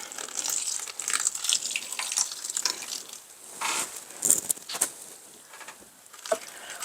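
Tap water running during indoor plant care on a Monstera, heard as irregular splashing and pattering bursts of moderate loudness with brief pauses and no talking.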